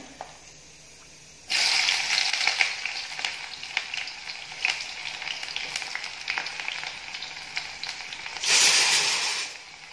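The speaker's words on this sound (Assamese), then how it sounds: "এফালে মোৰ কেৰাহী তেল গৰম হৈছে অলৰেডি। এতিয়া মই ইয়াত পিয়াজ দি দিম" Onions dropped into hot oil in a kadai start sizzling after a quiet opening second, giving a steady, close frying hiss with small crackles that swells louder near the end.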